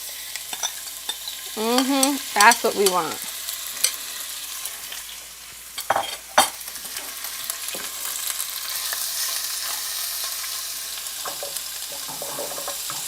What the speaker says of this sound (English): Yes, you guys hear that sizzle?